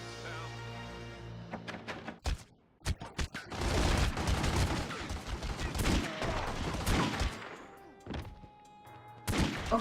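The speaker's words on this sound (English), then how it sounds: "Oh god, they're still shooting at you." Gunfire in The Godfather video game: several sharp single shots, then a long dense fusillade of rapid overlapping bursts with thuds and crashes, loud and close, ending in a few more isolated shots.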